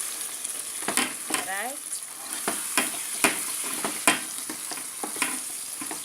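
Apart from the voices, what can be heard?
fish curry with chopped tomato simmering in a pan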